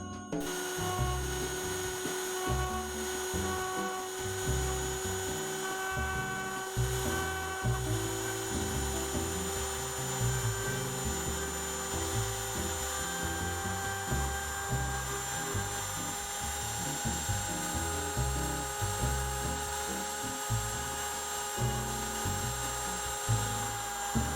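A rotary tool carves the face of a wooden tiki, producing a sustained high motor whine with a rapid, grinding, ratchet-like pulsing as the bit bites into the wood, steady and close throughout without speech.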